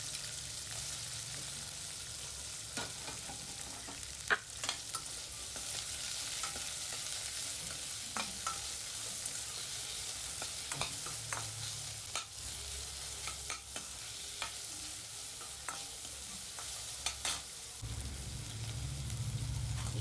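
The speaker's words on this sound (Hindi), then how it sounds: "प्याज को भून लेना है हमें" Onions frying in hot oil in a kadhai for a soya chunks curry, a soft, continuous sizzle broken by occasional scraping stirs, faint and steady with no talking.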